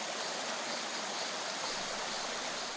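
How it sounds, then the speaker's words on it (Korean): Water tumbles between rocks in a forest stream, a steady, dense rushing splash that runs alone and unbroken throughout. "바위 틈으로 떨어지는 물소리가 숲의 고요함을 깨웁니다."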